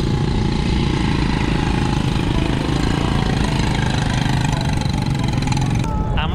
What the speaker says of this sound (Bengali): বিচ বাইক বলে এটাকে।